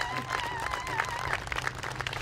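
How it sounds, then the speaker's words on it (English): Audience at a survivors' quilt walk for justice applauding the makers of hundreds of quilt squares, a faint, steady patter of clapping with some crowd murmur in an outdoor setting. "let's give them a round of applause"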